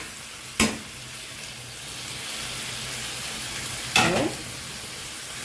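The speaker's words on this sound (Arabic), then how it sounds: "واستني اقلب كده لغايه ما اللحمه تتشوح" Minced meat with peppers and carrot sizzles steadily in a pan, with two brief scraping stirs of a utensil, and a voice speaks briefly.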